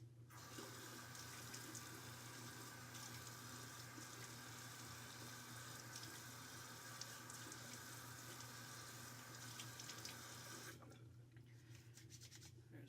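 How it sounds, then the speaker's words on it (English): Running water splashes steadily from a tap as a face is rinsed after shaving, a continuous close hiss with a low hum beneath, cutting off abruptly near the end. "Now I'm going to rinse off."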